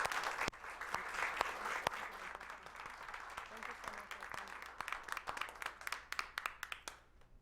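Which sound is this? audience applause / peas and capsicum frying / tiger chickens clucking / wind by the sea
audience applause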